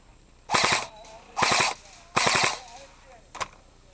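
Airsoft guns fire BBs during a military simulation game in three loud, rapid full-auto bursts of about a third of a second each, then a single short shot, with quiet gaps between and no talking.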